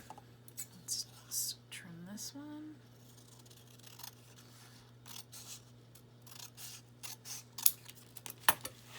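Scissors snip through paper strips being trimmed for handmade craft tags, a few quiet crisp cuts scattered among soft rustling and a steady low hum, with a brief murmured voice early on.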